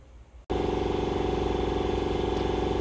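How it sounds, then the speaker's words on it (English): An air compressor in a workshop starts up abruptly and then runs on loudly and steadily, with a throbbing motor and a rapid pulsing rhythm. "I hope you guys can hear me over the sound of my air compressor"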